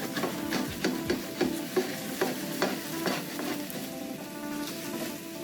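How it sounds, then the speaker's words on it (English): A wooden spoon scrapes browned bits from the bottom of a pan while brown gravy is being made. The strokes repeat in a close, rhythmic pattern over a steady low sizzle, and nobody speaks. "So when you want to use a wooden spoon, you scrape all the brown bits up."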